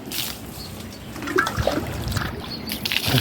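Water is sprinkled across the ground with a steady splashing and trickling that stays fairly soft and continuous, with a few brighter splashes throughout.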